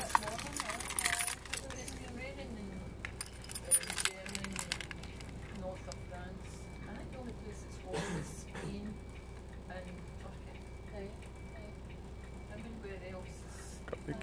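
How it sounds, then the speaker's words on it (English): A bunch of keys jangles and clinks near a bus in Glasgow's Buchanan Bus Station, bursts of metallic rattling at the start and again midway, with an engine humming underneath. "And then getting the keys."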